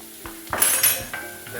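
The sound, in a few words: stirring seasoned food frying in a pot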